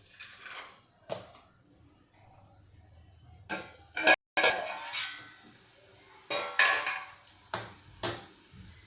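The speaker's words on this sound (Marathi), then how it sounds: "आता हे वाल मी यामध्ये घालते मी याला हलवून घेते थोडं" Field beans (val) being stirred into green masala in an oiled pan, with a few scattered scraping and clinking strokes of a spoon against the pan and faint sizzling between them, close by and without talk.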